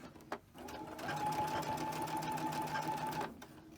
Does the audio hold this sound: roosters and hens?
no